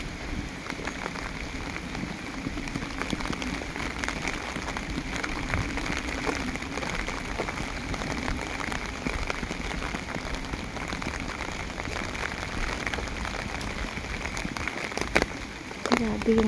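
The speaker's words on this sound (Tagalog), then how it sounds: "Grabe yung ulan." Heavy rain pours down steadily on surfaces outdoors, forming a dense, constant hiss throughout.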